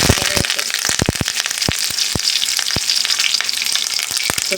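Mustard seeds pop and splutter in hot cooking oil in a pan, a dense crackle of sharp, irregular bursts over a steady sizzle, close and loud.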